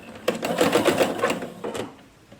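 A sewing machine stitches fabric strips together, running in a fast, steady mechanical chatter of needle strokes for about a second and a half before slowing and stopping, close and moderately loud.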